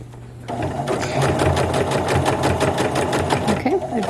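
Sewing machine stitching a seam while a formal dress is taken in, starting after a brief pause and then running in a steady, rapid, close mechanical chatter for several seconds, with no talk over it.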